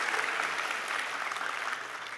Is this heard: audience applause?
yes